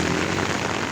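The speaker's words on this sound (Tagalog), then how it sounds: "Lakas ng ulan mga idol." Heavy typhoon rain pours in Laguna in a dense, loud, unbroken roar of drops hitting surfaces, with no voices.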